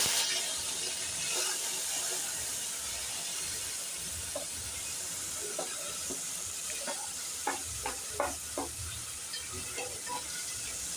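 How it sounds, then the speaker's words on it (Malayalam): Mustard seeds and spices sautéing in a pan for a Kerala chilli curry (mulaku curry), giving a steady sizzle with scattered sharp pops and crackles from the seeds, and no talk. "ഇത് നല്ലോണം നമുക്ക് വഴറ്റിയെടുക്കാം."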